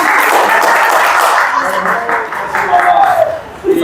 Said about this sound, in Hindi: अब इतने पे तो ताली बज जाती।